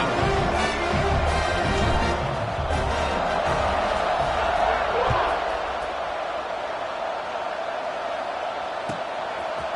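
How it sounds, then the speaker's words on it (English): A packed football stadium crowd at a Arizona State versus Illinois game roars steadily at kickoff, a dense wash of cheering and whoops with scattered thuds, while a commentator talks over it. "They're set to kick it off, and this crowd now ready to get behind them."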